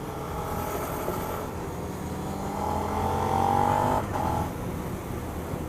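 Suzuki SV650 motorcycle engine running steadily, a moderate droning rumble that swells slightly midway and then settles, heard alone without talk.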